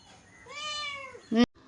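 A tomcat demanding fish lets out one drawn-out, rising and falling meow close by, ending in a short sharp noise.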